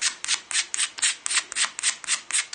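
A rotary tool fitted with a split mandrel sands metal to a brushed finish, a rapid series of about ten rasping strokes, close and loud, pulsing in an even rhythm with no talk.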